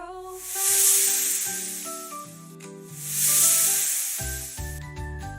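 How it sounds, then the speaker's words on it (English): A cartoon snake hisses in two loud, breathy bursts, each about a second long, over cheerful children's background music. "Snake."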